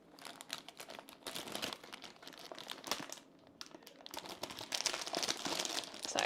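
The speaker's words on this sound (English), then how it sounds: "Sorry, crinkly bag." Crinkly plastic bag packaging of embroidery thread being handled close up, a steady run of sharp crackles and rustles that swell and fade in bursts, with no talk.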